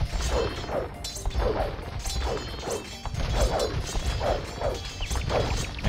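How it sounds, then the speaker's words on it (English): Building collapse in Age of Empires II as a barracks crashes down: a series of repeated crashing, smashing impacts with clattering debris, steady and fairly loud throughout with no talk. "There goes the barracks."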